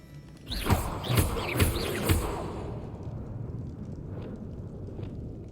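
Confringo fire-blast spell explosions in Hogwarts Legacy: four quick bursts in a row, each a sharp crackling boom, then a lingering rumbling tail with faint scattered pops.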